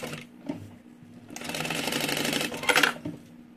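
A sewing machine stitches around the seams of a small fabric mini backpack: a brief whir, then a longer continuous run of rapid mechanical clatter that rises near the end and stops abruptly.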